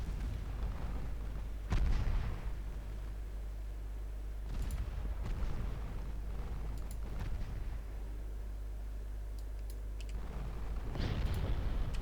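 Naval guns fire in the warship battle game Ultimate Admiral Dreadnoughts, with a few heavy, booming salvos spaced several seconds apart over a constant low engine drone, each blast followed by rumbling decay.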